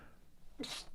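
One short, sharp sneeze bursts out near the end of a quiet moment, close to the mic.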